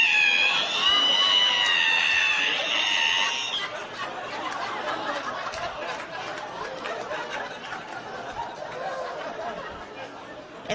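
A voice imitates a creaking ironing board being opened, a high, strained, wavering screech lasting a few seconds. Crowd laughter and chatter follow and carry on afterward.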